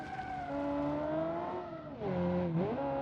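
Kiev Motors 08 (A13) in BeamNG, a car likened to a 1970s American muscle car with a large European sports engine that sounds flat-plane, revs steadily with harmonic engine tones, dips around the two-second mark, then climbs again.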